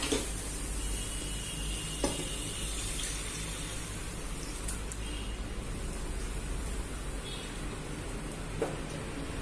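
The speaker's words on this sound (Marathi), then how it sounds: "दीड ग्लास गरम पाणी केलेलं आहे पण हे आता याच्यात ओतूया" Hot water poured into hot oil and masala in a cooking pot, making a steady, broad sizzling hiss that stays even throughout, with a few faint clinks, at moderate distance.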